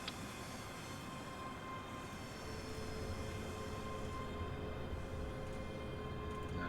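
A train rolling toward a station platform in the Train Simulator Classic game on the Glasgow to Dunblane and Alloa route, a low steady rumble and hum of the wheels and motor, quiet and continuous.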